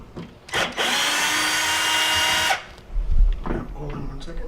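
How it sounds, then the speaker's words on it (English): A power drill backing out the mounting screws of a GE microwave: a loud, close two-second whine of the motor after a short blip, followed by handling clatter and low knocks. "what we have to do is remove the 4 mounting screws that hold it in place."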